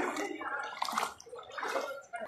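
Knee-deep floodwater on a Kolkata street sloshing and splashing with each wading step, a steady, close swish in an uneven rhythm that continues throughout.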